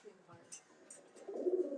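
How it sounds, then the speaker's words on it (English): American fantail pigeons in a loft: soft, low cooing murmurs that swell louder near the end, mixed with light chirps and nearby talking. "The American fantail."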